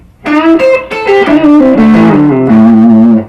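A blues lick in A on electric guitar starts high and steps down across octaves, including a bend, as a short run of clear sustained single notes played loud and close with no talking.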